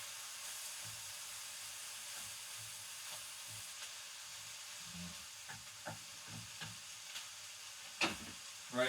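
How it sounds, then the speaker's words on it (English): Onions and mushrooms fry in a pan in a quiet, steady sizzle, broken by a few soft clinks and stirring scrapes that get louder near the end, with no voices. "Right, onions and mushrooms frying."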